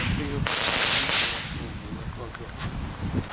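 Sharp, loud firecracker bangs go off in Delft, with two big cracks close together near the start, then fainter scattered pops and crackles as the echoes die away.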